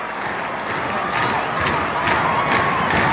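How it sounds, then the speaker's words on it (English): Arena crowd at a 1983 World Tag Team Championship wrestling match with Sgt. Slaughter and Don Kernodle against Ricky Steamboat, a loud steady roar of cheering that swells slightly over the few seconds, with no clear talk on top. "And listen to the crowd. Oh, listen to it."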